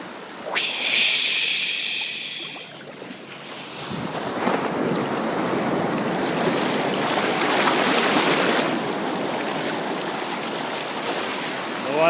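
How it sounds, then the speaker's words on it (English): Ocean waves wash ashore at Santa Cruz beach in a steady, rolling roar, a surge swelling midway and holding, with gusty wind buffeting the microphone throughout and no voices. "The water swishes away. And buck up again. Eternal. The eternal beauty of the waves."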